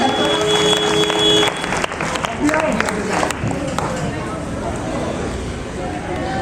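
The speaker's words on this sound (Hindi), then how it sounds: "कृपया जोरदार ताली से" A school audience applauds children being recognised at an event, dense clapping from many hands that starts loud and eases slightly, with a voice speaking over it.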